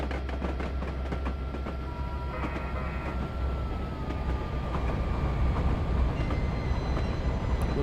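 A long freight train with a caboose rumbles past in Train Simulator 2020, a steady low rolling drone with faint clicking of wheels and a thin tonal whine, growing slightly louder toward the end.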